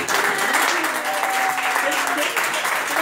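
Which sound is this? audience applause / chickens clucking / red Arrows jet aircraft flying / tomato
audience applause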